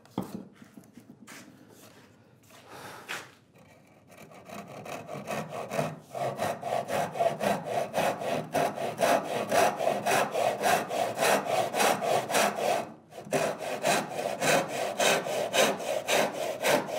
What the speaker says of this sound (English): I'm just going to go with a tenon saw, I think, a 12-inch tenon saw.